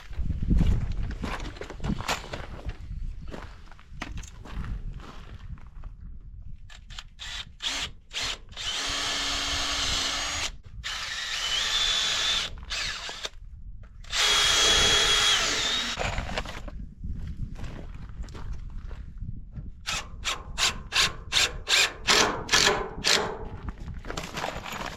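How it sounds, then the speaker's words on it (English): A power drill whirs close by in repeated bursts, some short and choppy pre-drilling, others longer runs driving screws into furring on shipping container walls, with brief pauses between. "I'm going to go ahead and jump on those pre-drill and throw some screws in there."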